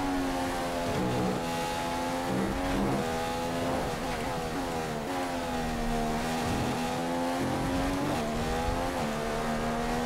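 A Formula 1 car in F1 2015 qualifies at Melbourne in Australia, its engine howling at high revs at full throttle. The tone rises and falls with each upshift and corner, and someone talks faintly underneath.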